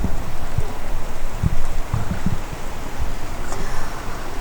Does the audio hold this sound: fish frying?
no